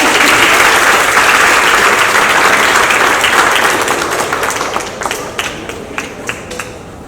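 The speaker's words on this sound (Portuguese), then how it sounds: "e uma salva de palmas para o coral." Audience applause for a choir at a bicentennial independence celebration held by a literary academy in Rio Grande do Norte: loud, full clapping from a crowd that gradually thins into scattered individual claps near the end.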